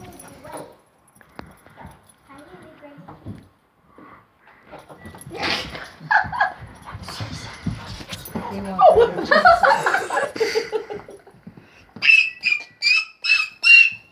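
A young dog barks loudly and excitedly indoors, a run of sharp, piercing yips and barks that builds to a rapid burst of four or five near the end, with a person talking softly earlier on.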